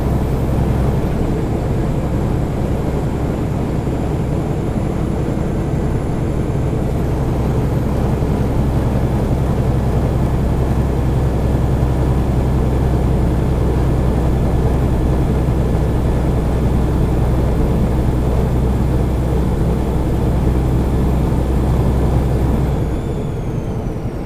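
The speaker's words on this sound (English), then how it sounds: "Downshift again, but I want to keep running my RPM up to like 1800." A truck engine drones loudly and steadily from inside the cab on a scenic mountain route from Hyrum, Utah to Kemmerer, Wyoming, held at high revs after a downshift, with no talking.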